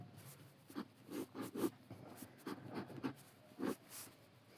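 Marker or chalk writing on a classroom board during a lecture on Prim's algorithm for minimum spanning trees, heard as a series of short scratchy strokes in bursts, fairly close and alone without talk.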